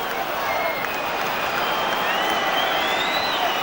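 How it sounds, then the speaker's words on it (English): Chelsea and Arsenal fans at a 1996/97 English football match make a loud, sustained crowd din mixed with whistling, with several long shrill whistle tones rising above the steady roar. "Crowd calling for the final whistle."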